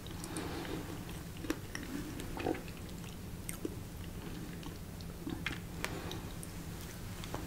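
Close, soft chewing of hard candy in a sweet-shop role play, with steady moist mouth sounds and scattered small crunches and clicks over a faint low hum.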